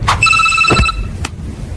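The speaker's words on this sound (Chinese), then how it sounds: "星灿娱乐总部一通电话打断了元霸天原本愉悦的心情" A telephone rings once in a short, loud electronic trill at the headquarters of an entertainment company, with a brief tonal burst followed by a quieter second pulse near the end.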